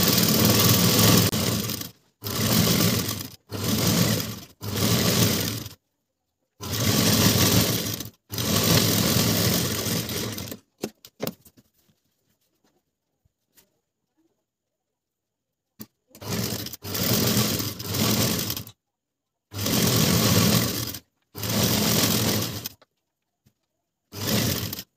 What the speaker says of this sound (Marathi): आपण डबल फोल्ड करून एक शिलाई मारून घ्यायची। मी इथे शिलाई मारून घेते।